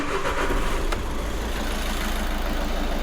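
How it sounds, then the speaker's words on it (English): A repaired Audi A1 engine, one injector newly replaced after rough running, cranks and settles into a steady idle, a continuous close rumble with a brief catch near the start and no voices. "So let's start the vehicle up."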